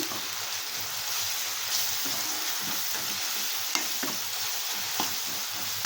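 Ginger, green chili and garlic paste with a little salt fries in a pan over low heat, giving a steady close sizzle with occasional stirring scrapes and no talk.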